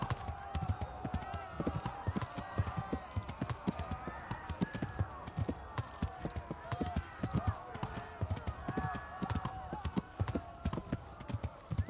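Hooves clip-clop in a quick, steady rhythm as a horse trots along in Kingdom Come: Deliverance, with game-style music and effects underneath and a voice talking over it.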